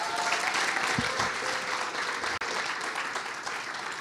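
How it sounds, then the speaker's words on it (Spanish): A church congregation in Panama breaks into loud, sustained applause during a service, a dense wash of many hands clapping close together for several seconds, with a faint voice underneath. "Denle un aplauso al Señor"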